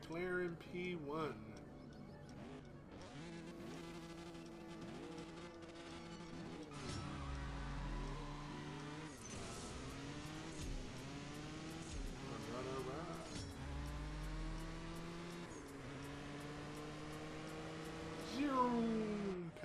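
A McLaren P1 in the CSR Racing 2 racing game, its engine note climbing and dropping through a series of quick gear shifts over about twenty seconds while someone talks continuously over it.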